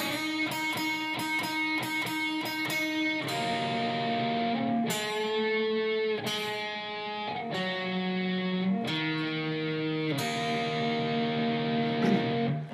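An electric guitar, with a distorted, echo-tinged tone, plays part 2 of a song slowly: quick repeated picked notes first, then longer ringing chords and notes, ending on the open bottom three strings, alone and steady.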